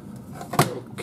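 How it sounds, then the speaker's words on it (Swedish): A glass carafe is set into an OBH Nordica drip coffee maker, making a single short clunk of glass against plastic in a quiet room. "Sätter dit tillbringaren där."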